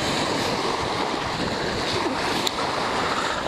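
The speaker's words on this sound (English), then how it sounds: "all the wind just coming right off of this reservoir" Strong wind gusting off a cold reservoir buffets the microphone in a steady, loud roar with broadband rumble throughout and no talking.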